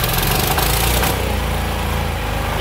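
A petrol MB-6 walk-behind tractor with a Z250 engine runs steadily and loudly close by, its even mechanical chugging continuing without a break and with no voices over it.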